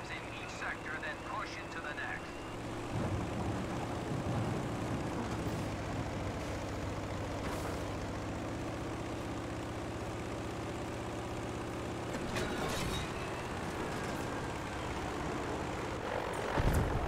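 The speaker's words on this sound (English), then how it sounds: "Oh shit, I have a plane on me." Battlefield V airplane: a steady propeller engine drone with low harmonic hum runs throughout, with bursts of gunfire and explosions over it and someone talking.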